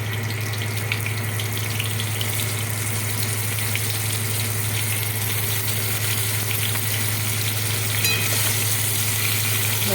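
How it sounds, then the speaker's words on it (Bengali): Cauliflower pieces fry in oil already used for frying potatoes, giving a steady, even sizzle over a low constant hum for the whole stretch, with no voices. "এই আলু ভাজা তেলের মধ্যে আমি ফুলকপিগুলো দিয়ে দেবো।"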